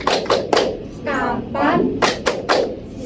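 Schoolchildren in a classroom clap in a quick rhythmic pattern, several short bursts of claps under a teacher's voice and children's chanting.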